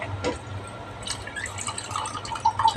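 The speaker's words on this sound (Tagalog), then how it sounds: "Dagdagan ko konting tubig yung munggo" Water is poured into a pot of mung beans, with soft splashing and dripping close by and a few light clinks near the end.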